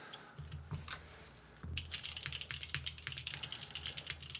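Typing on a plateless mechanical keyboard with Cherry MX Brown switches and DCS keycaps, a steady run of close, quiet keystrokes that starts sparse and becomes continuous after the first second and a half.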